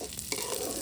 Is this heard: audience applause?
no